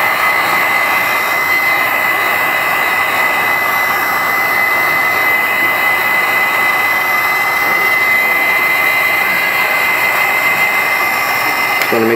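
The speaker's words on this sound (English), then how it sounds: "We're going to use our Wagner heat gun, put it on low." Wagner heat gun running on its low setting to warm a Galaxy S4 phone screen, a steady, loud, close blowing roar that stays even throughout with no pauses.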